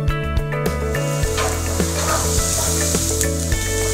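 Chopped onion and pancetta frying in a pan, a loud steady sizzle close by, with occasional scraping and stirring knocks of a utensil against the pan.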